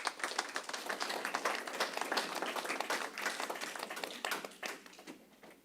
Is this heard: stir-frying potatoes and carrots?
no